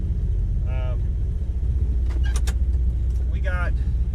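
A car driving with a steady, loud low engine and road rumble heard from inside the cabin, a few brief tones and clicks over it, and a voice talking intermittently.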